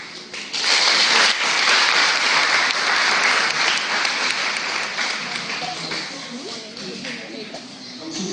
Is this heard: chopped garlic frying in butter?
no